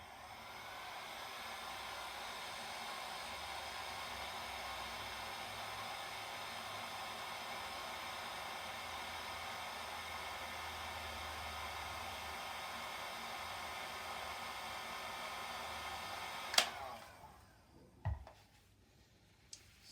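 A hair dryer blows steadily on alcohol ink for most of the stretch, a loud continuous whir that cuts off near the end, followed by a few knocks and clatters.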